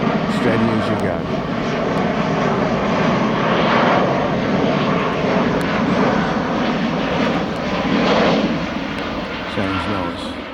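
An easyJet airliner passes overhead during a countryside footpath walk, its engine roar broad and steady, swelling twice as it crosses, with a voice speaking faintly over it.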